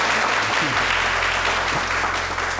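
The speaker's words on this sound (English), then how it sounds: "Let's give Ms. Jones another round of applause for putting together such another lovely event." A steady round of audience applause, dense and even clapping holding at a constant level throughout with a low hum beneath it.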